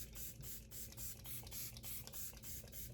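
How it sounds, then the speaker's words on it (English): Tarte Stay Spray setting spray misted onto a face in a rapid series of about a dozen short, even hissing pumps, close and quiet, with no talking. "I'm gonna set my skin with the Tarte Stay Spray"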